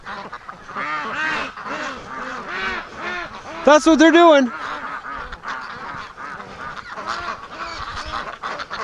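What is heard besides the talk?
ducks quacking in the straw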